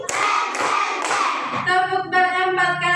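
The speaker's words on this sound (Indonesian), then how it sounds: "Tepuk bertiga kali." In a classroom, hands clap three times in a quick, evenly spaced sequence, close and sharp, then a voice follows.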